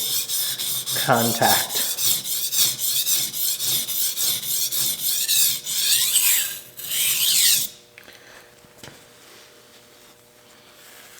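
Steady rhythmic rasping of a Shun Premier kitchen knife stroked along a 5000 grit whetstone, repeated even strokes close up, with a faint voice briefly heard before it stops and falls quiet.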